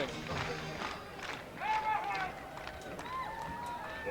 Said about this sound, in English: The crowd is fired up here at Spillane Field.